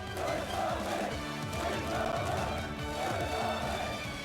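Soldiers of a North Korean air force helicopter unit shout together in loud, rhythmic cheers. The waves of massed voices repeat in a steady pulse over a thick, continuous crowd roar.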